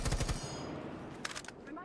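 Rapid automatic gunfire in the video game Rainbow Six Siege, a quick burst of close shots at the start followed by a few scattered reports and lingering echo.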